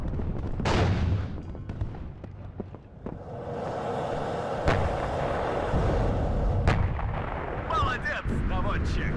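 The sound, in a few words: artillery fire in WARNO video game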